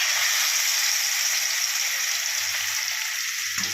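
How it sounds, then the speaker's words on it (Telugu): Chicken pieces fry in heated oil with a steady, bright hissing sizzle that runs unbroken at an even level throughout. "ఆయిల్ కాగిపోయింది, ఇప్పుడు చికెన్ వేస్తుంది."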